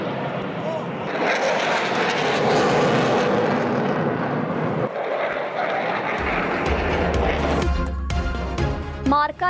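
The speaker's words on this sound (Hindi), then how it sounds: "पाक फ़िज़ाइया के शाहीनों का फ्लाई पास्ट का शानदार मुजाहिरा।" Pakistan Air Force jets roar overhead in a fly-past, a loud, sustained rushing engine noise across most of the clip with a crowd-like wash and a deep rumble rising near the end.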